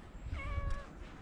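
Domestic cat meowing once, a single short, fairly close meow over quiet background noise with no talk.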